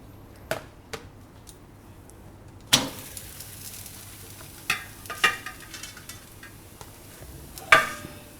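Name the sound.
roti roasting on a pan over low gas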